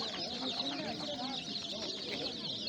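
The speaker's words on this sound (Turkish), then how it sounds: "Burası da bizim satışını yaptığımız civcivlerimiz. Bizim tezgahımız yani. Şöyle baktığımız zaman karışık paçalı Brahma köy civcivi" Mixed feather-legged Brahma village chicks crowd a poultry market stall in Sungurlu, filling the air with a dense, continuous chorus of high peeping that stays steady throughout, with faint voices underneath.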